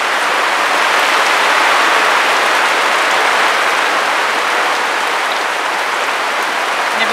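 Heavy rain pouring down during a super storm, a dense, loud, unbroken roar of falling water that stays constant throughout with no talking.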